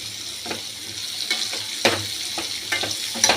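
Asafoetida tempering sizzles in a pan for a vegetarian papaya curry, a steady hiss of hot oil broken by several scraping stirs of a spoon at irregular intervals, heard up close.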